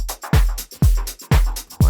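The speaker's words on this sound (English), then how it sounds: "Pretty cool synth drum kit." A synth drum kit built in the Surge wavetable synth loops a punchy pattern: four deep booming kicks with bright snappy hits and ticks between them, loud and alone.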